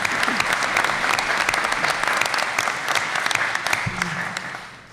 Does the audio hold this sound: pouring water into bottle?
no